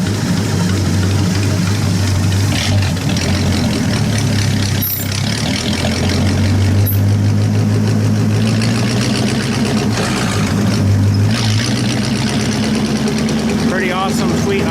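A flathead engine idles slowly at roughly 400 to 450 RPM, a loud, close, low and steady rumbling throb with an even loping pulse, while someone talks over it.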